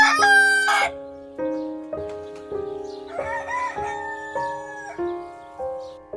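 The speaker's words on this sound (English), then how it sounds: "Roosters are male chickens known for their crowing, vibrant plumage, and spurs on their legs" A rooster gives a loud, close cock-a-doodle-doo crow at the start, followed by a series of shorter repeated crowing and clucking calls spaced about a second apart.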